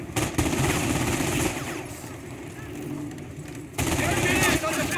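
Rapid machine-gun bursts in a Company of Heroes battle aimed at an engineers squad during a tank rush, loud rattling volleys that ease off midway and then surge back, with shouted voices over the gunfire.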